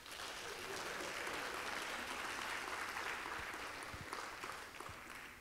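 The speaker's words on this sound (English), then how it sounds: "So another round of applause for them, please." Steady applause from an audience at a 2019 high school Project Lead the Way graduation ceremony, dense and even for about five seconds before easing slightly at the end.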